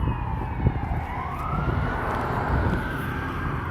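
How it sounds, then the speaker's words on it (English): Police car and fire truck sirens pass at once, a rising and falling wail heard over steady traffic rumble for a few seconds, fairly close and loud. "Police going one way, fire trucks going the other."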